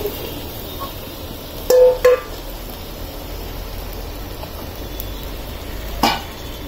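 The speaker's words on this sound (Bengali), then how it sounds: "এখন সবজিটা দিয়ে দিচ্ছি ভেজে রাখা।" Pre-fried vegetables go into a pan of spice masala cooked in little oil, bringing a soft low sizzle with a couple of brief clanks and scrapes of utensils against the pan, no talking.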